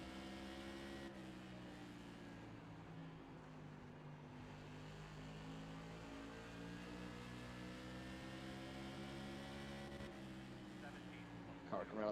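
Race car engines from the iRacing sim, Tour Mods at Kern County, drone steadily as a pack circles, one car leaving the pits; layered harmonic whine holds constant throughout with a brief rise near the end.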